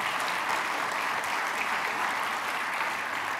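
A conference keynote audience applauds steadily and evenly for a few seconds, a dense, full patter of clapping with no voices over it.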